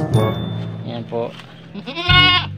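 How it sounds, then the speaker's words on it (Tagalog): A backyard goat gives a short nasal bleat near the end, close and clear, after a stretch of people talking nearby. "Yung kambing ko."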